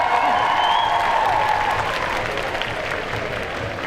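A crowd at a group cosplay contest during the Made in Asia 2023 convention applauds loudly and continuously, a dense wash of clapping with light cheering and some whistling tones early on.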